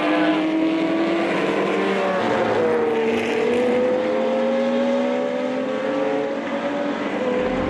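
1969 Porsche 917K race car engine powering up the hill at Rennsport Reunion, a sustained loud engine note climbing and shifting pitch under load, with no talk over it.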